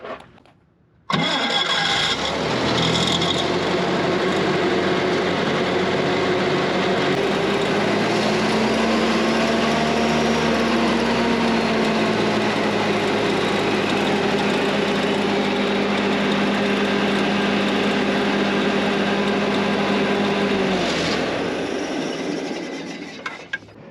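A Minneapolis Moline Mobilift engine starts and settles into a steady, loud idle close by, running continuously with no talk before it cuts off near the end.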